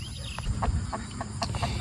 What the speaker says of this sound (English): There's Mama Hen with her 3 babies.